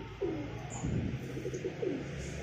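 A highflyer pigeon coos in a few soft throaty phrases, close by and alone with a faint background hum.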